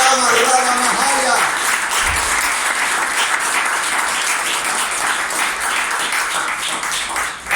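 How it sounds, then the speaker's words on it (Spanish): A church congregation breaks into sustained applause during a lively Spanish-language sermon, loud, dense clapping that follows a voice at the start and keeps going to the end. "Den un aplauso al Cristo que viene pronto."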